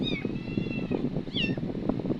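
A pet cat lets out two short meows, one at the start and another a moment later, over a busy, noisy background with nearby voices.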